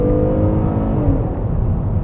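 Hyundai The New Grandeur with its 3.3 engine of nearly 300 horsepower driving along, a steady loud low engine drone with road rumble and a gently falling whine, no voices.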